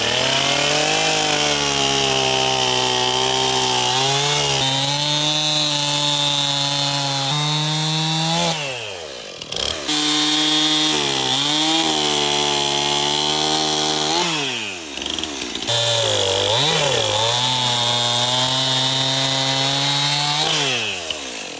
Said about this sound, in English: we're gonna go ahead and start working on this log with the chainsaw